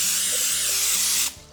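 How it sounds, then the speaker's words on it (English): Cooking spray hisses into a 9x13 baking dish in one steady, close burst of about a second before cutting off abruptly. "I've got this 9x13 dish. I'm gonna spray it."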